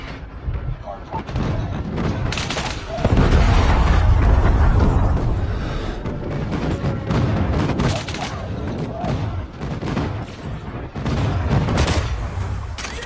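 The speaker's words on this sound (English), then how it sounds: "Friendly airstrike incoming." Airstrike blasts rumble through a Call of Duty Mobile Hardpoint match, heavy booming explosions and bursts of gunfire building into a loud, continuous barrage, with game voice callouts over it.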